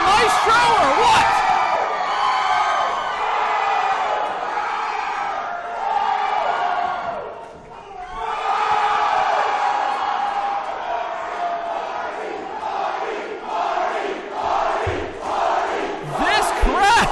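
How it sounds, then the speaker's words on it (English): A packed wrestling-show crowd roars and cheers continuously, loud and close, with swelling whoops and shouts and rhythmic clapping or chanting toward the end. "This crowd!"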